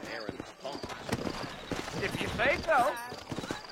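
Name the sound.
horse hooves clip-clopping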